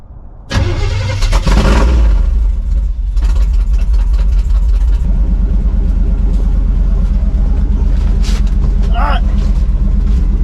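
An abandoned 1976 Chevy K10 shortbed truck that had sat for ten years cranks, catches and roars into a loud, steady run with revving, close up from start to finish.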